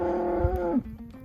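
A single cow gives one drawn-out, low moo at close range, lasting under a second, outdoors by a farm pen at evening milking time, with no talking.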